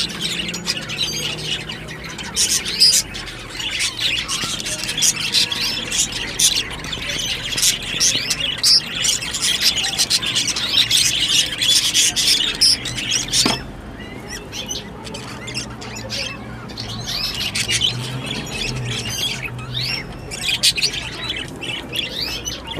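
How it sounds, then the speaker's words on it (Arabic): Goldfinch sings in rapid, bright twittering phrases with chirps and squawky notes, continuing close and lively over a soft low background hum for the whole stretch. "تسمع صوت الحسون"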